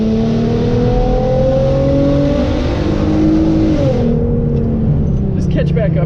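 Hyundai Genesis Coupe with the 3.8 V6 accelerating hard, a loud, steady engine roar with rising and shifting tones heard from inside the car, then easing off toward the end.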